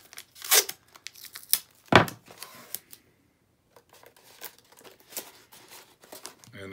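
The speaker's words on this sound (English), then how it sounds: "I'm just using masking tape." Masking tape is torn and wrapped around the end of a craft piece in a few sharp ripping bursts, separated by quieter crinkles, handling and short pauses, all close up.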